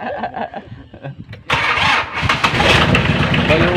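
A Mitsubishi L300 diesel engine with a hard cold-start problem cranks after its glow heater is used and catches, jumping into a loud, rough running clatter, with people talking nearby before it fires.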